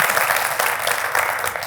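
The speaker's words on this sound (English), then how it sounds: "A big applause for Christopher." A conference audience at a sales event in Brussels applauds a keynote speaker's arrival, a brief, full burst of many hands clapping at a steady, even level.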